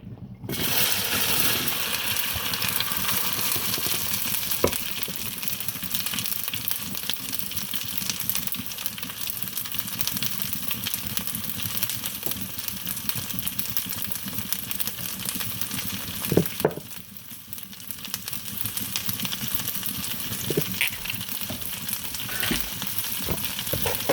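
Pork chops fry in hot oil with a continuous, crackling sizzle that stays steady and close for a long stretch, dropping briefly once before resuming at full strength.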